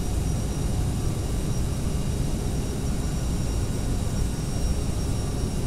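Airliner jet engines run at climb thrust in a Prepar3d flight simulator, a dense, steady broadband roar with a low rumble that holds evenly throughout, no speech.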